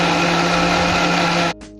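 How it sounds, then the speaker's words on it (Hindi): Electric mixer grinder blending milk into an ice cream batter, a loud steady high whirring motor that runs for about a second and a half, then cuts off abruptly into a brief fading spin-down. "एक बार मैं इसे और मिक्सी में डालकर चला लूंगी।"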